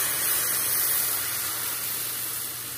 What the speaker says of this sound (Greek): Τη βρύση γεμίζουμε με νερό.